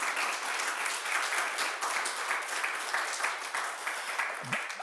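Sustained audience applause at an Order of Malta anniversary gathering, steady dense clapping from a crowd filling the whole stretch.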